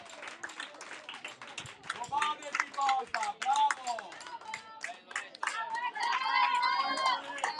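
A football crowd applauds a substituted player leaving the pitch, scattered clapping from the stands under continuous commentary and crowd chatter.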